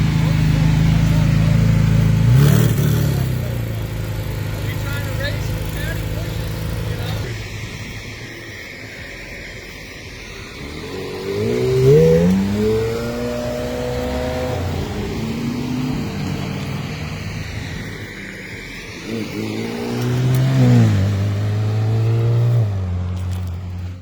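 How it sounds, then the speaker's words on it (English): A Corvette C8 Z06 with a flat-plane-crank V8 and center-mounted exhaust revs in a few rising and falling pulls heard at a moderate distance amid steady road and wind noise, never reaching full revs. "which sounds incredible, but don't get too excited because they never come close to fully revving it"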